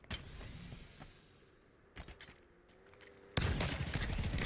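Gunfire during a Halo multiplayer match, rapid bursts of game shots with clicks and a final dense barrage of automatic fire, loud and close among other game effects, with no talking.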